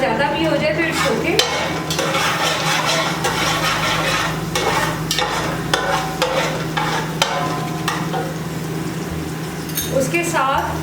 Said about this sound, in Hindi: और हल्का सा फ्राई करेंगे इसे।